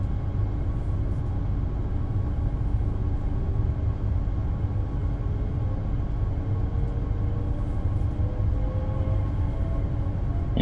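A DB Regio passenger train in Train Sim World 2 pulls away and runs at a steady, fairly quiet pace, with a continuous low rumble and faint rising motor tones throughout, with no voices.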